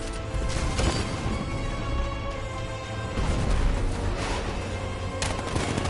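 A tank's 60mm cannon fires in a Batman video game, giving loud, dense repeated blasts and crashes over a continuous rumbling backdrop of battle noise.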